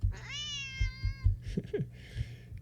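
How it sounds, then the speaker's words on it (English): A cat meows once in a video game, a long drawn-out call, followed by a few short softer chirps and small noises over a low background rumble. "The cat sounds annoyed with you."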